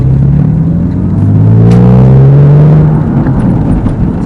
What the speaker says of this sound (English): that whine that people talk about, the Porsche whine